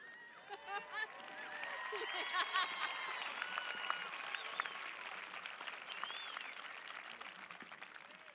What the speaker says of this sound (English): we request that the audience respond with polite applause and remain in their seats